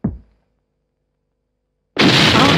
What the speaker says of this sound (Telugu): పేలింది అక్కడ కాదురా, ఇక్కడ.